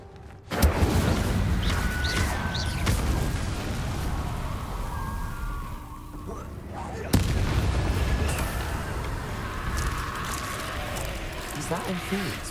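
A fire spell erupts with a sudden loud whoosh and blast in a magic-school fantasy video game, followed by sustained roaring crackle, then a second burst midway, with voices and game effects layered over the rumble.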